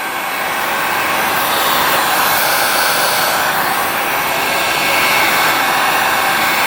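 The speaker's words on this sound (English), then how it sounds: "Got our heat gun here. Just gonna heat up the surface right here." A heat gun blasts a constant, loud airy whir close by as it warms the surface of a stuck CV axle, steady for several seconds with no talking.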